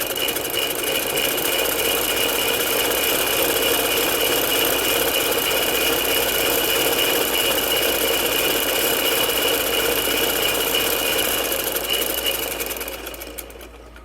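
A sewing machine stitching the hem of a gents' shalwar, running in a loud, steady continuous whir with a rapid mechanical rhythm before slowing and stopping near the end.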